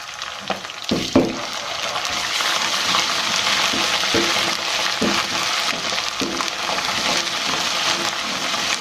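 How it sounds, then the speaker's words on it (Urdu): Garlic ginger paste frying with light-browned onions for a palak kofta, a continuous close sizzle with a few sharp crackles and stirring scrapes near the start, no talk. "پیاز میں نے لائٹ براؤن کر لیے، اس میں ڈالوں گی لہسن ادرک کا پیسٹ 2 چمچ"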